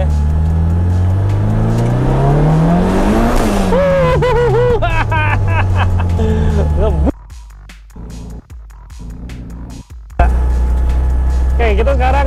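A boosted Daihatsu Charmant is driven at full throttle, its engine revving hard and climbing through the gears with a loud, close roar, then briefly dropping off before the throttle opens again.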